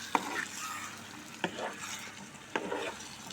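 Drumstick and dried prawn curry cooks in a pan, with a steady, close sizzle that a spoon stirs through three times, each stroke landing as a sharp clink or scrape at a regular rhythm.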